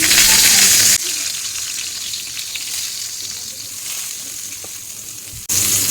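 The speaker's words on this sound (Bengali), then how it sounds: "আমি কীভাবে বেগুন ভাজা করব" Eggplant pieces coated in salt and turmeric sizzle and fry steadily in hot oil, with a loud hiss at the start and end and a softer continuous crackle between, no talking.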